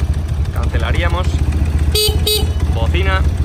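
Two short, loud horn honks sound over the idling engine of a BMW R100 RS motorcycle, with someone talking in Spanish before and after.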